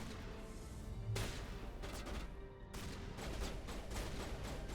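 Gunfire erupts in the sci-fi shooter Mass Effect, a dense, continuous barrage of rapid shots with sharp bursts and a short lull midway, loud and sustained throughout.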